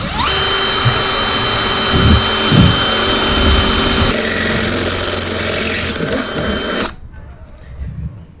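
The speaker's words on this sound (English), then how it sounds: "I'm going to drill this one in the exact same place" A power drill whines loudly and close for several seconds while drilling a hole during a bucket seat install on a Honda Pioneer 500, its pitch dipping as it bites in, then cuts off abruptly.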